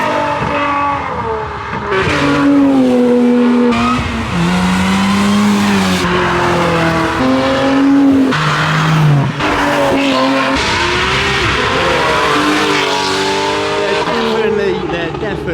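Race cars run hard on a hill climb course, with a Lamborghini Performante among them. Loud revving engines rise and fall through gear changes with tire squeal, close by throughout, and a voice talks over parts of it.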